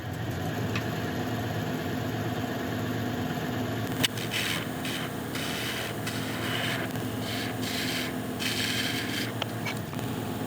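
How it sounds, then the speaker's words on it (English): A ball gouge scrapes along the edge of a very heavy, dense wood blank spinning on a lathe, a steady close rasping over the continuous motor hum with brief scratchy bursts. "I'm just going to quickly clean off this edge very carefully with a ball gouge"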